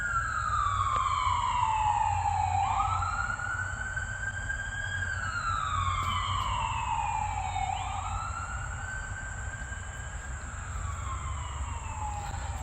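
An ambulance siren wails in long rising and falling sweeps, strong and steady over a continuous low rumble of traffic, with no talk, heard from near a trail camera review recorded at Donley Cove.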